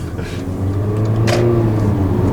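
Close, sustained engine drone of a 2015 Mercedes-Benz GLA 45 AMG, punctuated by one brief, bright exhaust pop just past the middle.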